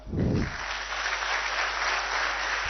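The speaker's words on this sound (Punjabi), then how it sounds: "ਜ਼ੋਰਦਾਰ ਤਾੜੀਆਂ" Loud applause from a seated audience at a government appointment-letter ceremony, a dense, steady wash of clapping that swells in quickly and holds for several seconds, with a brief deep voice at the start.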